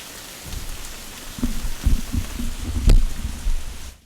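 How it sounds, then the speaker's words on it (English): Rain falls outdoors in a soft patter with scattered heavier drops and a few louder splashes, close by and steady for a few seconds before cutting off. "Do y'all hear the rain?"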